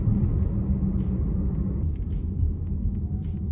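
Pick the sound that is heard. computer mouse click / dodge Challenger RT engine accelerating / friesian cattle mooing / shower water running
dodge Challenger RT engine accelerating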